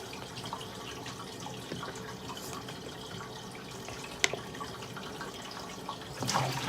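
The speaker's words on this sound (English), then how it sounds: "And then we're going to turn the water on while we're shaking it to an ice cold." Tap water runs into a sink to rinse a bottle, a faint, steady splashing hiss with a few brief clinks and knocks.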